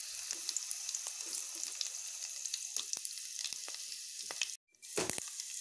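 Red chillies fry in sunflower oil in a pan, giving a steady close sizzle with scattered sharp pops and crackles and a brief pause near the end.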